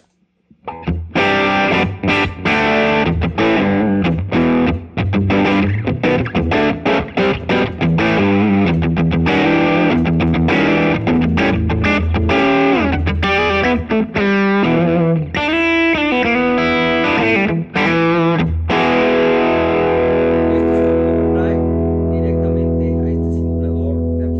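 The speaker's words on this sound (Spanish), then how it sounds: "es un pedal que pues es un overdrive que me gusta mucho usar en mis sonidos" Electric guitar through a Nobles ODR Mini overdrive pedal plays a dense, driven riff of fast picked notes and chords, loud and close, ending in a long sustained chord that slowly fades. No voices are heard.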